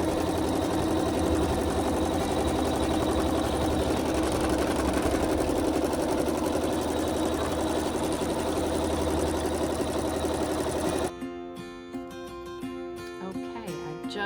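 A Brother Navigator sewing machine runs steadily, stitching a double line through fabric in a loud, continuous mechanical whir for about eleven seconds before abruptly stopping, leaving a quieter, sparse room tail.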